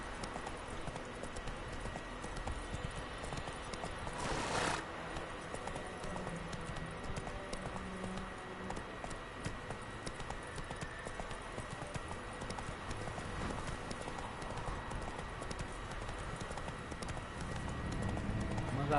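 Horse hooves clip-clop steadily at a gallop in The Witcher 3 on PS4 Pro, a continuous rhythmic drumming of hoofbeats with a brief loud knock early on and occasional talk over the top.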